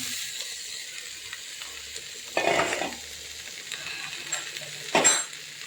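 Chopped bitter gourd in a hot pan: a faint steady sizzle with two louder bursts of hissing and stirring scrapes, each lasting under a second, close by.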